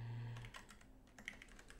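Quiet clicks of typing on a computer keyboard whose keys have no labels, a run of close, irregular keystrokes with a low hum under them at the start.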